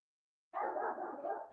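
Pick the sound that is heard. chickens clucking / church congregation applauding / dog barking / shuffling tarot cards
dog barking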